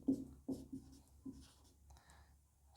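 A pen or marker scratches out writing during a maths lesson on quadrilateral area, giving a few soft, close strokes in short bursts with pauses between them.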